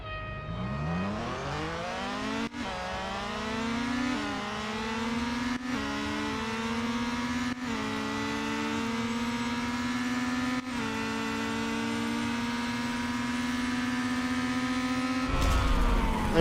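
Race cars in a Real Racing 3 drag race roar steadily and loudly, the engine pitch climbing through a string of gear shifts with brief dips between them. The engines run alone with no talk.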